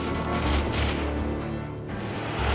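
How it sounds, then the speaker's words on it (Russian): A hunting rifle shot in the Mongolian steppe: heavy, booming blasts and rumbling roll through a dense, loud outdoor soundscape, like distant gunfire echoing with low thuds. "Выстрел."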